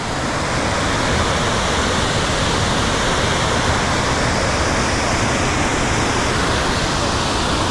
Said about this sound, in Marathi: हा कुंभे वॉटरफॉल इथून खाली चालू होतो म्हणजे पाणी आता येथे खाली जाते दरीमध्ये